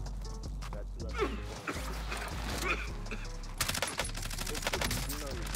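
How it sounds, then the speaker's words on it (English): Call of Duty Warzone gunfire, with bursts of automatic fire and grenade launcher shots, rattling in a dense, continuous barrage with a louder burst near the end and game noise beneath. "I'm getting shot by somebody with a grenade launcher that's sitting on top prison"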